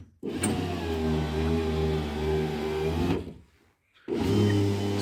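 Electric window regulator motor with its trapezoid linkage driving a bar up and down under load, a loud close whirring hum for about three seconds, a short pause, then a second run.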